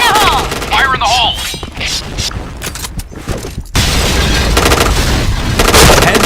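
Gunfire and grenade blasts in the online shooter Point Blank crackle loud and dense, with bursts of shots, booms and mechanical clatter, and game voice callouts over the top.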